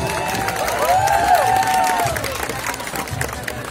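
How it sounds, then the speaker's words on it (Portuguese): A crowd of spectators at a military school parade claps and cheers in a sustained wash of applause, with a brief high whistle-like tone rising and falling partway through. "Recebendo mais uma vez os aplausos dos munícipes."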